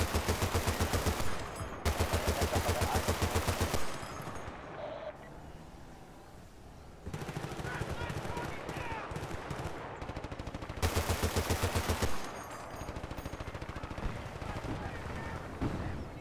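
Machine gun fire in Battlefield Bad Company 2 comes as loud, rapid sustained bursts, with two long strings early and another later. Quieter battle noise fills the gaps, and a voice talks at times.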